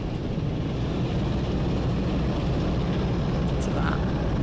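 Diesel train engine at full throttle in Train Sim World 3 on the Northern Trans Pennine route, a steady loud roaring drone that holds without a break from start to end.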